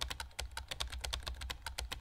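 Computer keyboard typing sounds from the game Emily Is Away Too: a rapid, close clatter of keystrokes with an uneven rhythm, fairly faint, with no voices.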